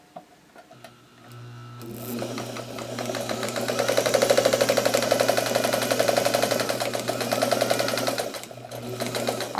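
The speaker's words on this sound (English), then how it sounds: "we're going to sew a quarter of an inch all the way till we get to the line" A sewing machine stitches a quilt block seam, starting after a short quiet moment and then running in a close, continuous rapid whir with steady stitching rhythm before slowing slightly near the end.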